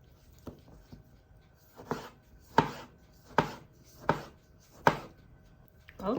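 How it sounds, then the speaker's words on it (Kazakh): A knife chops tomatoes into half rings on a board, giving about five or six sharp, evenly spaced cuts at close range with quiet pauses between them. "Қызанағымызды полукольца етіп, осылай, яғни тілдеме етіп турап аламыз."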